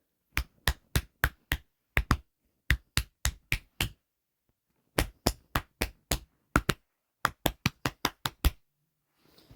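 Hands clapping out a song's rhythm from the Banjo Tooie soundtrack, crisp close claps in quick groups of four to six with brief pauses between phrases, alone in a quiet room.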